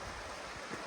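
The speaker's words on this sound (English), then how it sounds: "Look at the river." Steady rush of a flowing river on the Cheviot border ridge, a continuous broadband wash with no voices, brief and fairly faint.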